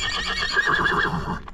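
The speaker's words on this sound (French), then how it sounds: "C'est normal qu'on a un cheval qui nous suit là?" A horse on the trail near Pic du Carlit in the Pyrenees gives a long, loud whinny nearby that rises and wavers, close and clear, with no talking.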